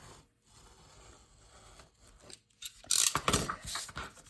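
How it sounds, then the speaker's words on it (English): Paper from a Christmas card is cut with crisp scissor snips and rustling while being trimmed for an envelope lining, quiet handling at first, then a louder run of close cuts. "And we'll trim this side"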